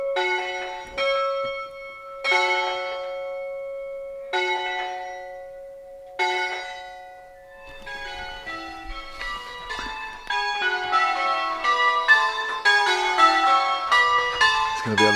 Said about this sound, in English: Or maybe they just turn up to do some bell ringing.